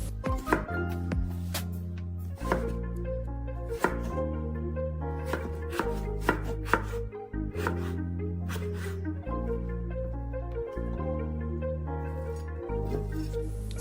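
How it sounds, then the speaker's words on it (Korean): A knife thinly slices stacked cucumber halves diagonally on a cutting board, a long run of crisp, rapid chops in bursts with brief pauses, close and clear. "사선으로 얇게 잘라주세요."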